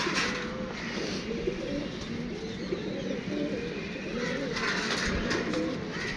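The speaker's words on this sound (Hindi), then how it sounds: "ये जी दोस्तों दूसरा कबूतर है" Pigeons coo in a soft, continuous rumble over steady background noise, with a faint flutter here and there.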